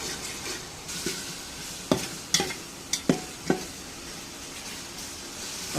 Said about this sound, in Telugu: అడుగంటకుండా అలా తిప్పుకుంటూ ఉండాలి